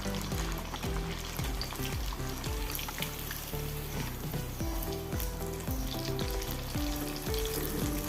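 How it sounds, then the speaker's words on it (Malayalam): Kerala banana fritters, pazham pori, deep-fry in hot oil with a continuous crackling sizzle that sits under steady rhythmic background music. "രണ്ടാമത് നമുക്ക് ഇതുപോലെ തന്നെ മുക്കി പൊരിച്ചെടുക്കാം"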